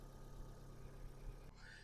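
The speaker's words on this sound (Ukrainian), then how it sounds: "Мотор взагалі мурчить." A 2011 Opel Astra H 1.6 MPI engine running on gas idles with a steady, close, low rumble that holds constant throughout.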